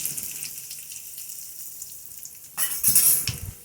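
Fresh curry leaves drop into oil with popping mustard seeds for a yam-stem and green gram thoran: faint crackling at first, then a sudden loud burst of sizzling.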